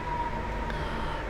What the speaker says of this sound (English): See, the siren is encouraging you to do it